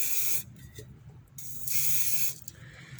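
Spray paint hisses from an aerosol can onto a tin can planter being made into a cactus pot, in two long, bright bursts with quieter pauses between, close by.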